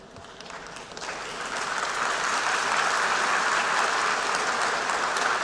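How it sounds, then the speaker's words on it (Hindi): Applause from an audience in a large conference hall at a maritime leaders conclave, starting moderate and swelling within two seconds into a dense, even wash of clapping that holds steady. "आप गया था इसकी ताली बजा रहे हो, आया हूं इसकी ताली बजा रहे हो।"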